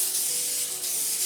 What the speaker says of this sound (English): spray the Pam spray just so that we can spread it out